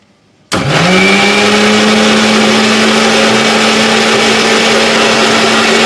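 A blender grinds a lemon drink with lemon juice added, starting abruptly after a brief quiet moment and then roaring steadily and loudly at a constant high-speed whine for several seconds, with no talk.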